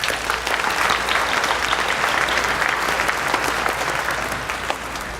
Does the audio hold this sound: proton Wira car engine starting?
no